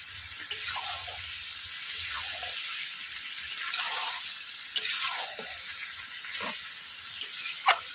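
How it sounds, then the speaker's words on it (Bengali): Chicken being sautéed in a pan for a country-style red curry, a steady frying sizzle with repeated scraping stir strokes and occasional clinks, close and unbroken, no talk. "এইভাবে আমি কষিয়ে নিচ্ছি চিকেনটাকে"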